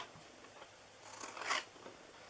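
Scissors cutting down through a cardboard box, a soft crunching snip that builds to a brief louder cut, close and quiet, with no talk.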